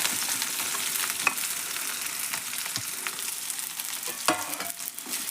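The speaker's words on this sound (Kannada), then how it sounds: "ಎಣ್ಣೆ ಒಳಗೆ ಫ್ರೈ ಮಾಡ್ಬೇಕು ನೋಡ್ರಿ" Garlic, green chillies and onion fry in hot oil, giving a soft, steady sizzle broken by a few light stirring clatters, with no one talking.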